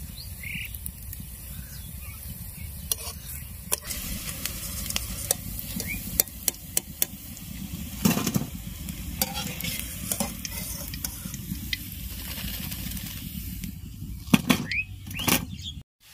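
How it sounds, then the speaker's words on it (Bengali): Egg and potato fritters coated in gram-flour batter fry in hot oil with a steady, close sizzle and occasional stirring clinks and scrapes, with no one speaking. "তেল গরম হয়ে গেছে, এবার ভেজে নেব।"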